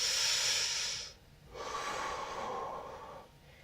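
A deep diaphragm breath drawn in by someone practising singing breathing exercises, heard as two long, close, airy inhalations separated by a brief pause.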